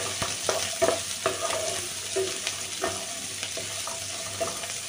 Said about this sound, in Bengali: তো ক্যাপসিকামটাও একটু ভেজে নিচ্ছি।